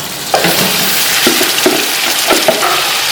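Beef frying with onions and whole spices in a pan, a loud, dense sizzle with a few stirring scrapes and clinks, no voices.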